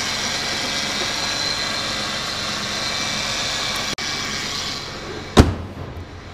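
A 2006 Pontiac G6 with a 3.5-liter V6 idles steadily with a smooth, even drone, close by, broken near the end by a single sharp clunk.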